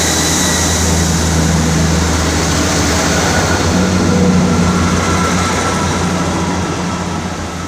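Great Western Railway passenger train at Bath Spa station, a loud continuous rumble and hum of the train passing close by on the main line, steady throughout with no talk.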